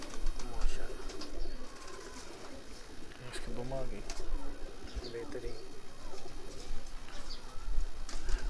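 Pigeons coo steadily on a rooftop loft among breeder pairs and flying birds, soft repeated throaty calls mixed with chirps under someone talking nearby.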